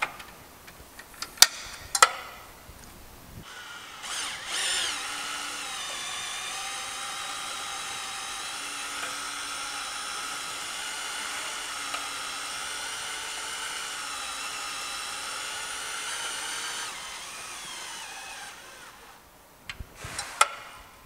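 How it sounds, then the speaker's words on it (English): A power drill with a trailer dolly attachment whirs at a steady, high whine for over ten seconds, driving the dolly, with a few clicks and handling knocks before and after. "just keep in mind again to gradually increase the speed on your drill"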